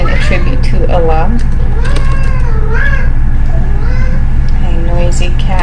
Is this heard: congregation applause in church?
no